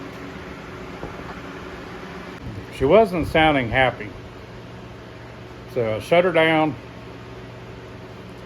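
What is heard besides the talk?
electric fans running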